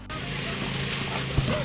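A Great Pyrenees and Anatolian Shepherd mix puppy, a young livestock guardian dog, gives one short yip near the end, close by, over low background noise and voice-like sound.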